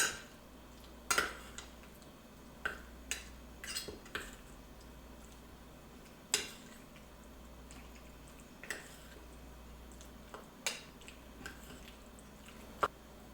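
Seasoning with salt and black pepper being mixed by hand gives soft, quiet squishing and scraping, punctuated by a few sharp clinks of a utensil against a dish at irregular intervals.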